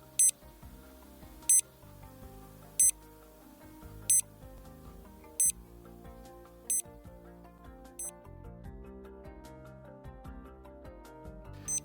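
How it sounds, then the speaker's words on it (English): A swim speed trainer tucked inside a swim cap gives short electronic beeps at a steady preset interval, about every 1.3 seconds, each one bright and distinct over a soft musical backdrop. "Set the speed trainer to beep on a preset frequency"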